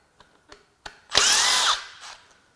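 Power tool spinning off crank sensor bolts on a BMW N18 engine, with a few small clicks followed by one short, loud, whirring burst, up close.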